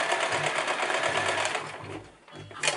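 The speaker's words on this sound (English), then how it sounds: "now I'm sewing on top of the folded area" A sewing machine stitches across the folded area of a long sleeve shirt, running in a fast continuous whir with a rapid needle rhythm, easing off briefly near the end before a short burst resumes.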